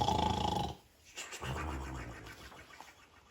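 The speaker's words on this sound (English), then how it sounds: "all he could hear was the nobleman snoring." A rough, rumbling snore, followed by a pause and a softer, drawn-out breathy snore, close and fairly quiet.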